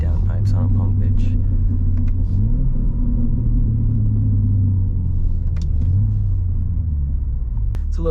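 A BMW M3 fitted with a new exhaust idles after a cold start, giving a steady low rumble with a couple of slight revs. The engine sound runs continuously throughout and stays close and full.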